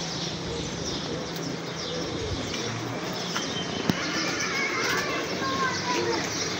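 Pigeons cooing in a loft, soft repeated low coos scattered over a busy background, with people talking over them.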